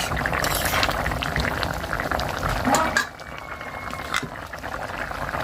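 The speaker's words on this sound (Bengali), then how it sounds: "ঝোলের জন্য জল দিয়ে দিয়েছি ফুটে এসেছে" Water for a fish curry boils vigorously in a pot, a dense close bubbling and hissing that continues throughout, quieting slightly partway through, with no talk.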